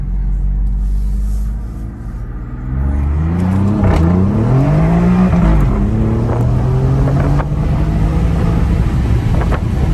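A tuned Alfa Romeo Giulia Quadrifoglio 2.9L engine revs and accelerates hard at full throttle, its pitch climbing and dropping through gear changes, loud and close throughout with no talking.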